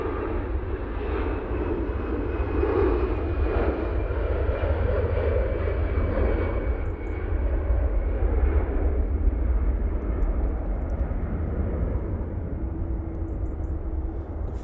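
An Aer Lingus airliner departs Manchester Airport bound for Dublin, its engines a steady, loud broadband roar that holds for the whole stretch with no voices over it.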